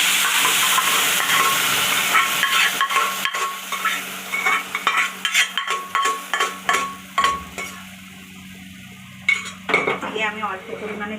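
In a pan, amra (hog plum) and masoor dal for a sour lentil dish sizzle and fry while a spatula scrapes and clinks in a steady stirring rhythm, close and fairly loud, with no talking.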